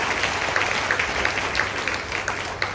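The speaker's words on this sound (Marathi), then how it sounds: "त्यांच्या कामासाठी जोरदार टाळ्या होऊन जाऊ" Audience applause for community health workers, a dense sustained round of clapping from a crowd filling the whole stretch at steady volume.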